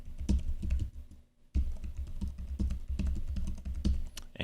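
Login details are typed on a computer keyboard: a rapid, close run of key clicks, broken by one short pause, then continuing at an even pace to the end.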